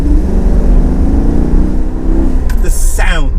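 A Maserati GranTurismo S with a naturally aspirated 4.7-litre V8 revs with the window down, a loud deep roar building steadily before a quick throttle blip near the end, heard close.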